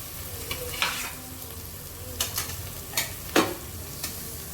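Fried lentils stirred in a pot for vegetarian khichuri, with a soft background sizzle and a few scattered scraping strokes of a spoon against the pot, close up.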